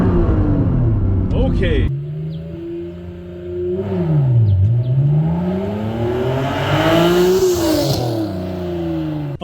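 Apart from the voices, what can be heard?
Honda NSX engine revving for launch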